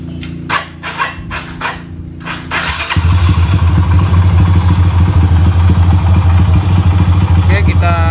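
Motorcycle engine with fuel injection, started up and then idling steadily and loudly through the rest of the clip, after a few sharp clattering knocks at the beginning.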